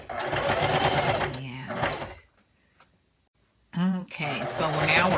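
A sewing machine runs along the round hip section of a T-shirt dress side seam at a 5/8 seam allowance, whirring loudly in two long bursts separated by a near-silent pause, with a voice talking at times.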